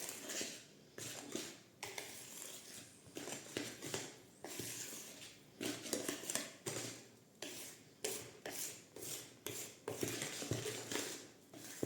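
Brownie cookie dough with sifted flour and cocoa is stirred with a utensil in a bowl. Repeated scraping and soft clinking strokes come in a steady rhythm, close but quiet, with no talking.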